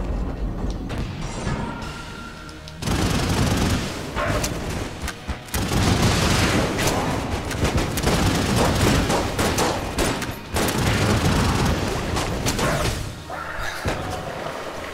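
Dense, continuous video-game gunfire fills an Enter the Gungeon boss fight, rapid shots and thumping booms layered into a loud, unbroken barrage with brief dips, no voices over it.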